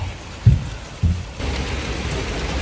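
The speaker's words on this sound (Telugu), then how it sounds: "It's raining heavily." Heavy rain pours steadily and close by, a dense continuous hiss on a surface, with two dull thumps early on and the downpour thickening toward the end.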